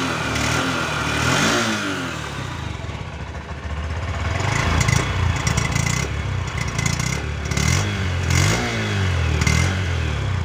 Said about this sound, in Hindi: तो यहाँ से आप इसके इंजन के साउंड को नोट कर सकते हैं